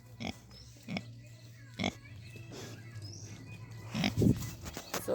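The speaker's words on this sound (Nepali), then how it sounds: "सुँगुर हाम्रो यहाँ छ" A pig on a home farm grunts in short separate bursts, several close snorts spread across a few seconds, with quiet background noise and no clear talk between them.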